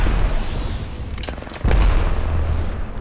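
Charge rifle fire in the Apex Legends video game, a heavy booming shot with a sudden loud low impact midway that rumbles on, close and prominent with no talking.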